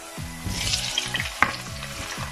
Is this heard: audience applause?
no